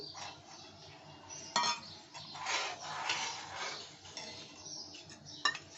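A spoon stirs milk and sugar in a pot for a Jamai Sashthi dessert, scraping and clinking against the metal in an uneven, continuous rhythm with a few sharper knocks, close and moderately loud.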